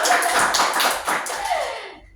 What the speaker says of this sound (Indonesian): kita masuki ke tepuk tangan lagi dong